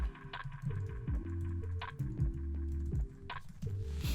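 Rapid, crisp clicking of keys on a computer keyboard as an email address is typed, close and clear in quiet surroundings, with short bursts and brief pauses.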